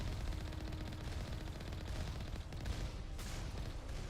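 Moving turrets firing in Mass Effect 1, a dense continuous barrage of rapid gunfire with steady loud rattling throughout the combat.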